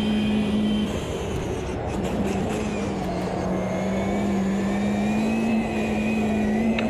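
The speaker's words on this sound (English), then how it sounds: "It's the McLaren F1. So I'm bouncing off the limiter, not good." McLaren F1 engine in the Automobilista 2 racing game holds a loud, steady high-revving drone, bouncing off the rev limiter with a slightly wavering pitch throughout, close and continuous with no talk.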